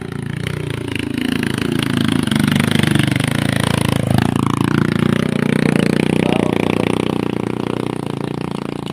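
Motorcycle engines roar continuously and loudly up close on the road to Mount Apo, a steady rumbling drone that swells slightly mid-way, with no talking.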